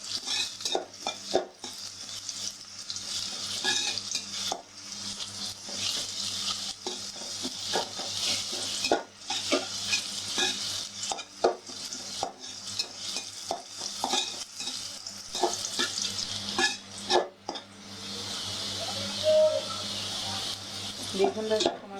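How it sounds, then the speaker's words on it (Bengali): Sliced onion and green chilies fry in hot oil while a utensil stirs and scrapes the pan in repeated bursts, the sizzle steady underneath the clattering strokes. "পেঁয়াজটা কাঁচামরিচ একটু ভাজা ভাজা হবে।"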